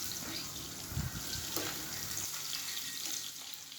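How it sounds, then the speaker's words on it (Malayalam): Shallots sautéing for a mutton curry, a soft steady sizzle with a few scraping stirs near the start, fairly faint and without talk. "ഇനി നമുക്കിതൊന്ന് ചെറുതായിട്ട് മൂത്ത് വരണ വരെ ഒന്ന് വഴറ്റി കൊടുക്കാം"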